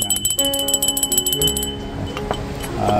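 A small bell at a household goods exhibition rings in a quick run of bright metallic strikes, then fades into a lingering tone over faint background hall noise.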